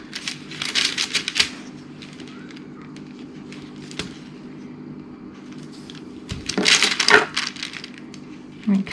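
Bioplastic sheet is cut into 2 centimetre strips, making close, crackly crunching and snipping bursts, with a quieter stretch in the middle before another burst of cutting.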